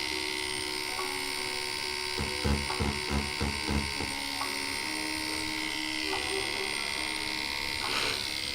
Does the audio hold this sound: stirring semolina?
no